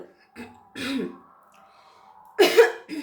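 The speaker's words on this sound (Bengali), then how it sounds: "হঠাৎ এত কাশি এসে গেল" A woman clears her throat and coughs in a few short, rough bursts separated by pauses, close and fairly soft, with a faint steady hum behind.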